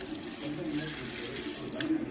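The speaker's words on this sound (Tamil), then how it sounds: "இப்போ நம்ம தண்ணி கொஞ்சம் ஊற்றிக்கலாம்." Water pours from a tap or jug into a pot while making tomato soup, a steady splashing rush with a brief louder splash near the end.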